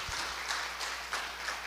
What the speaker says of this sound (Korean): 방송부 격려의 박수 한번 주십시다.